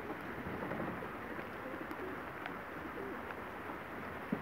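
Young racing pigeons coo softly at an aviary, faint and somewhat distant over a steady outdoor background hiss.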